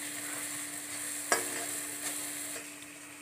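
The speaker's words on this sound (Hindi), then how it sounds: "मसाला भुन चुका है" Masala with crushed kasuri methi roasts in a pan for a potato sabzi, giving a steady soft sizzle with a sharp spoon scrape near the middle and a couple of lighter stirs after. No one speaks.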